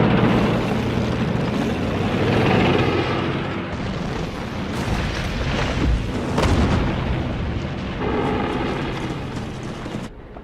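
A Soviet Katyusha rocket launcher barrage on a WWII battlefield sounds as a dense, continuous roar of rumbling booms and rushing blasts, loud and sustained, with a few sharper cracks standing out.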